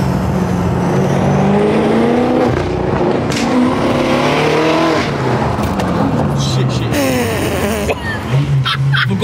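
A 750 bhp BMW F10 M5 saloon with a Wrench Studios stage 2 tune accelerates hard from inside the cabin, its engine note rising and falling through gear changes, loud and continuous with voices over it.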